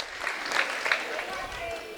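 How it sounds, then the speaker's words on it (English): Basketball crowd at a girls' high school game giving mock cheers and applause after a foul, a brief burst of clapping and shouting in a gym, mixed with a commentator talking over it. "The crowd goes wild for a foul."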